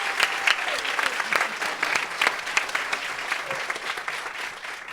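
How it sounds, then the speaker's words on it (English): A live political talk show audience claps for panelists joining the stage, a brisk, moderately loud burst of applause with distinct individual claps that holds steady for several seconds. "So give them a round of applause."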